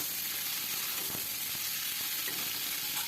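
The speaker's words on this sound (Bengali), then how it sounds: "দিয়ে আমি এখন মরিচটাকে একটু ফ্রাই করে নিলাম" Chili and taro stolons fry in a pan, a loud, steady close-up sizzle with occasional soft scrapes of stirring and no voices.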